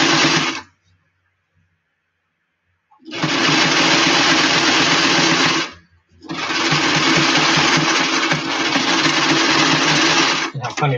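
A sewing machine stitches a flat cap in two long, loud, steady bursts of rapid needle chatter, separated by a pause of near silence, with no talk over it.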